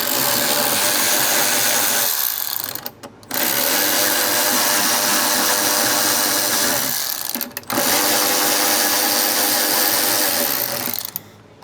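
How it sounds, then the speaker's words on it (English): Power driver with an 1/8 inch Allen head socket running 10-32 screws in while fitting swoop fenders and a roll pan on a 2026 Road Glide, a loud steady whir that stops briefly twice between screws. "with an 1/8 inch Allen head socket, we're gonna run them in"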